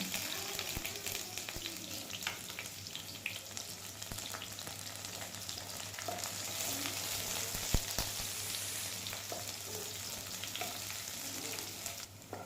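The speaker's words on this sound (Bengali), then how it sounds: "তারপর পেঁয়াজ কুচি ঢেলে দিব। পেঁয়াজটা ভেজে নিয়ে" Chopped onion frying in hot oil in a pan, a steady broadband sizzle running throughout with a few sharper pops and crackles, close and moderately loud, with no voices.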